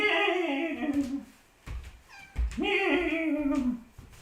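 A pet cat meows twice nearby, two long drawn-out wailing calls separated by a short pause with some faint shuffling between them, and no voices.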